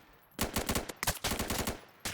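Rapid bursts of automatic gunfire in a SWAT shooter video game, sharp repeated shots in quick succession, loud and close, with a brief pause midway before firing resumes.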